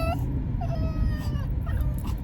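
Small dog whimpering and yipping in short high-pitched whines, a stray puppy with no collar found outdoors, close by over a steady low background rumble.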